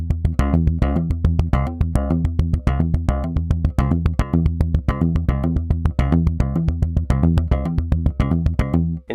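SlapStick N-100 electric percussion instrument playing a steady repeating pattern with tapped notes, a dense run of sharp rhythmic attacks over sustained low tones, close and loud throughout with no voices.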